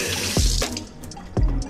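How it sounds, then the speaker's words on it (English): Tap water runs steadily into a sink while hands are washed during home cooking of an Ethiopian-style spaghetti sauce, with a continuous close splashing stream and brief louder splashes. "always wash your hands it's important between each ingredients make sure your hands are clean"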